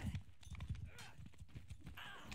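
Horse hooves clop in quick, soft rhythmic steps in the video game Mount & Blade II: Bannerlord, quiet and low in the mix. A player talks over them.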